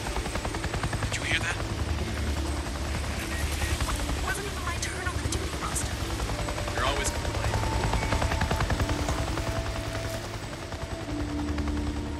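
Helicopter rotor thrum in the Days Gone video game, a steady chopping drone running the whole time beneath gunfire bursts and characters talking.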